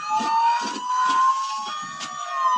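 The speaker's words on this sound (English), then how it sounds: "And there goes the siren." A steady, loud siren tone holds throughout, with rhythmic low pulsing bursts beneath it and no talking.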